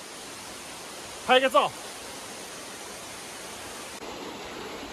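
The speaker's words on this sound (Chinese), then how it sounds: "走到这里又看到一个瀑布" A waterfall at Jiuzhaigou gives a steady, even rush of falling water that fills the whole scene at moderate level, with a brief spoken remark over it partway through.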